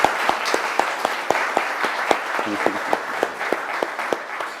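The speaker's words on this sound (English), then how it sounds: "Give a round of applause." Applause from an event audience, a small crowd clapping steadily with distinct, evenly spaced sharp claps standing out over the broader patter, close and fairly loud.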